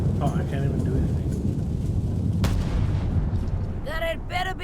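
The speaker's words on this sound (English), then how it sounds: "Ready for cannon firing." Deep cannon boom from Return to Monkey Island rumbles beneath a continuous low roar, with a single sharp report midway and brief voiced sounds near the end.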